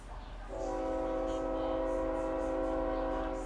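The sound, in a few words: train going by, in a video game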